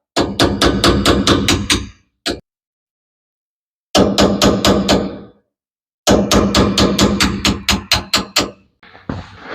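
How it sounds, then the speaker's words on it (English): A hammer drives a punch against the tabs on a trailer wheel hub, sharp metallic strikes in rapid bursts of about eight blows each, separated by short pauses, loud and close. "you're going to take a punch and a hammer or chisel. We're going to tap out the tabs."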